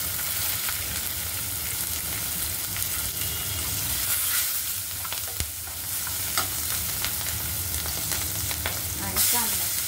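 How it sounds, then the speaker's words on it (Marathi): Chopped onion sautéing in a pan with turmeric and green chillies for a garlic spinach dish, a steady soft sizzle with occasional stirring scrapes throughout. "कांदा लाल गुलाबी होईपर्यंत परतायचा"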